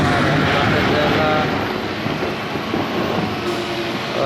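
An electric locomotive and a freight train at a railway siding where cement rakes are loaded near Jaisalmer give off a loud, steady rumbling roar that eases slightly but continues throughout.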